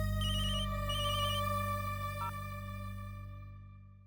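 A soft, steady electronic phone ringtone with repeating beeping patterns over a constant low hum, fading slightly toward the end.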